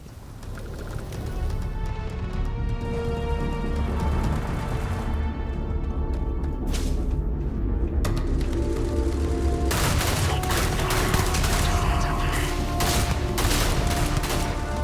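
Sustained heavy gunfire in the video game Starfield, a dense, loud barrage of overlapping shots and bursts with booming impacts, continuous throughout.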